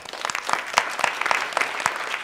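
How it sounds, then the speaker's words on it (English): Audience applause for a panelist at a Producers Guild of America panel at The New School, a steady patter of many hands clapping at moderate loudness with no talking over it. "A big round of applause for Mayad."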